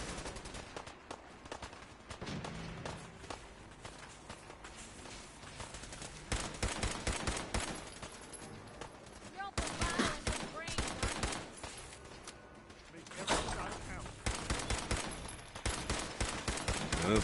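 Repeated bursts of gunfire from a poorly performing gun in Fallout 4, loud and dense in stretches, with a voice talking over parts of the shooting.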